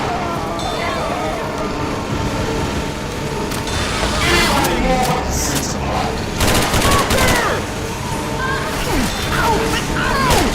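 Rapid gunfire from Left 4 Dead 2 crackles in dense bursts through a busy, loud game mix, with a voice talking over it throughout.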